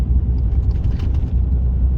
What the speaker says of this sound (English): When you put stanadyne in there, the truck just runs smoother.